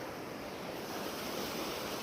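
Floodwater after heavy rain in a village rushes into a stream, a steady broadband roar of flowing water with no breaks, moderately loud and continuous, with no voices.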